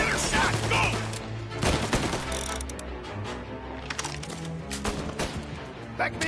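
Rapid gunfire rattles through a shootout in Mafia Definitive Edition, sharp cracks and bursts close and loud, with shouted voices mixed in among the shots.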